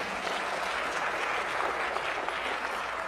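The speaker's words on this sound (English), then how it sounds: "Let's clap with her. Come on, let's clap with her." A crowd applauds steadily, dense clapping filling the room from start to finish with no voices standing out.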